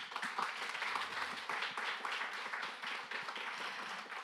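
An audience at a Korean opening ceremony applauds keynote speakers, a dense, moderately quiet wash of many hands clapping steadily across the whole moment.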